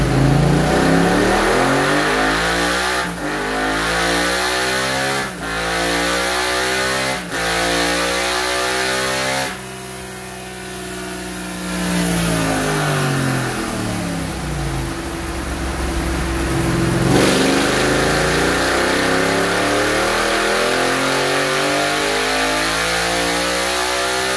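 A Yamaha MT-07 fitted with an Akrapovic exhaust with the bung in runs on a dyno, revving up and down repeatedly with sharp rising sweeps and brief drops between pulls, loud and close with no speech.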